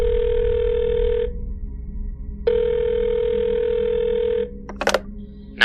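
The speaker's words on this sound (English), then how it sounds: "I snatched up my cell phone and dialed 911." A cell phone gives a steady dial tone, breaks off, and sounds it again, then three quick keypad tones follow as 911 is dialed. The tones are loud and close with no speech.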